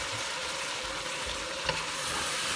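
Adobo being stirred in a hot pan just after soy sauce goes in, a loud continuous sizzle and hiss with scraping stir noises and a brief clack near the middle.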